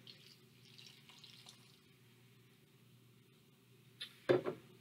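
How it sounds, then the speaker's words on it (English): Water is poured into a bowl of dish soap and flour for homemade paint, a short splashing gush near the end after a quiet, faintly hissing lead-in, close and soft. "And then I'm going to pour our water in."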